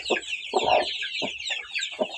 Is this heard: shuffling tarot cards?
no